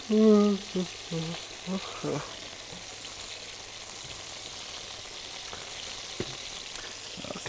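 Chicken pieces frying in a pan for pikata with linguini, a steady broadband sizzle that runs throughout, with brief talk near the start before the frying carries on alone.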